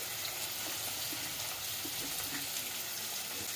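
Chopped onions sizzle steadily in hot oil with bay leaf for a country chicken curry, a close, even crackle and hiss throughout with no talking.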